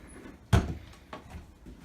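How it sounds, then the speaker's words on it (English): An interior door at the top of a staircase swings shut with one solid thud, followed by a couple of fainter knocks as it settles, close by and with no voices. "simply because if you close this door"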